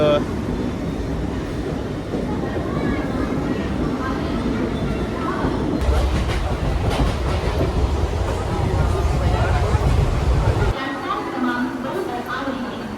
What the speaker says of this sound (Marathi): लोकल आली